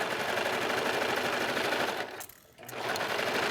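A serger runs fast, stitching and trimming a knit jacket sleeve in a loud, dense mechanical whir. It briefly pauses near the end, then starts up again.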